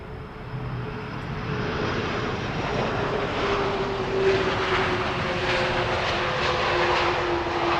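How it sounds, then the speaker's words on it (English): A Delta Airbus A330 airliner arriving at Amsterdam Schiphol, a steady, moderately distant jet engine roar that swells slightly midway and holds on, with no one speaking. "Delta Airlines Flight 164, arriving from Minneapolis, Minnesota."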